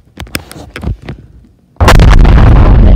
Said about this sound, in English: And that explosion was so big.